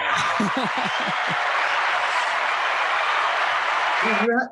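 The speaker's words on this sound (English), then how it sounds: "You have a massive audience there clapping." A large live audience claps in a steady, dense wash lasting several seconds, with a voice speaking briefly at the start and again as the clapping cuts off.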